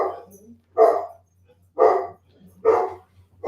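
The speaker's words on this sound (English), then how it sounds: "what in the heck is he barking at?" A dog barks four times in a steady rhythm, each bark loud and close, with short quiet gaps and a faint low hum underneath.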